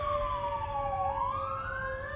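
Emergency sirens from arriving fire department and ambulance vehicles wail steadily, one tone dipping and climbing again, at moderate distance over a low road rumble.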